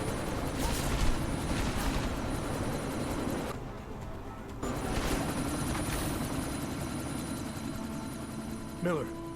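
A helicopter in the video game Deus Ex: Mankind Divided, a continuous low rotor drone and mechanical hum filling the scene, briefly dropping away midway before resuming, with a character's voice speaking over it.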